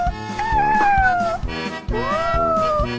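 A cartoon kitten meows twice in long, drawn-out, wavering cries, loud and close, over soft rhythmic background music.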